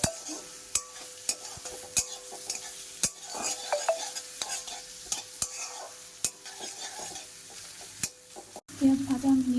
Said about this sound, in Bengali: এবার আমি পেঁয়াজটাকে হালকা করে ভেজে নিচ্ছি